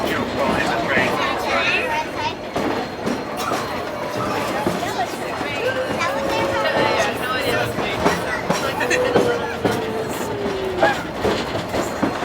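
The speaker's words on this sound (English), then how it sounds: "you're going to be able to see engine 152 pulling the train." Engine 152 pulling a Halloween ghost train ride at Crossroads Village, steady rumbling rail noise with clickety-clack wheels and a faint drawn-out squeal, continuous under a voice narrating over a loudspeaker.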